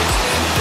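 Rushing water at the Coban Putri waterfall near Batu, Malang, a broad steady roar close by, alone, with no voices over it.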